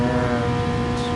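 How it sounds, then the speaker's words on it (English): A race car engine in GT Sport screams at very high revs, a steady, loud, tonal whine held at near-constant pitch for the whole moment, with no voices over it. "I can't believe how high the rev is in this thing"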